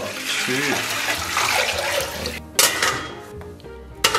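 Water poured into a cooking pot holding sliced pork strips, red shallot and ginger, heard as a fairly loud splashing pour, followed by a couple of sharp clanks of the pot.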